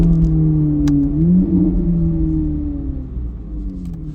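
A modified C8 Corvette Z06 with valves open and no catalytic converters burbles heavily from inside the cabin, a loud, steady low rumble that shifts in pitch as the engine settles, with road and tire noise underneath.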